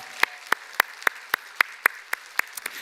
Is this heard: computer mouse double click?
no